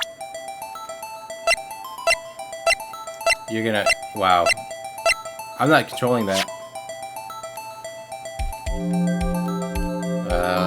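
An old flip cell phone in the Ace Attorney video game rings with a repeating electronic melody of short, evenly spaced tones, steady and clear, while a person talks over it partway through.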